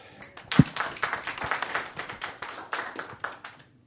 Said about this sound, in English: One more time, a round of applause for Alex.